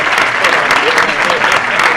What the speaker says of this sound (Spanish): así que le pido un aplauso